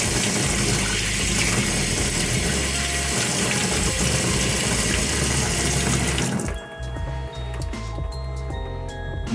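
Hot tap water gushes steadily into a tub for rinsing cleaned parts from a 1974 Williams pinball score reel, a loud continuous splashing rush that cuts off after about six seconds, leaving faint drips and small clinks.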